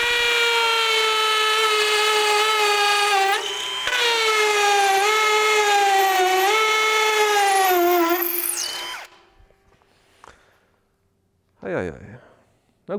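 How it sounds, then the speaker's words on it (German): Bosch hammer drill in hammer mode driving an 8 mm multi-construction bit into sand-lime brick, a loud whining, steady drone with a pitch dip midway, stopping abruptly and followed by near silence with a brief rattle. "Ich habe hier einfach Kalksandstein und bohre da einfach mal rein"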